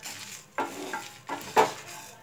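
Bay leaves and whole chillies are roasted in a kadhai, heard as a few close scraping stirs and light clinks against the pan over a faint sizzle, with no speech.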